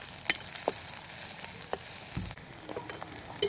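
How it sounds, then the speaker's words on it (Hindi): Chopped onions sizzle steadily in hot oil with whole spices such as cardamom, clove and chilli, a continuous soft frying hiss broken by occasional scrapes and clicks of a spoon stirring the pan. "अब इसमें हम डालते हैं प्याज।"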